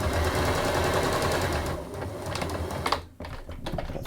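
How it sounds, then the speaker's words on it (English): A sewing machine runs in a quick steady burst while stitching the seams of a simple Japanese fabric bag, then stops, followed by a few soft handling sounds. "So we'll go to the machine and we'll just stitch these seams."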